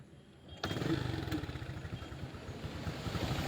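A Honda XRM 125 motorcycle with a wiring problem starts up after a short quiet stretch, its engine catching abruptly and then settling into a steady, close, loud idle with a rapid putter.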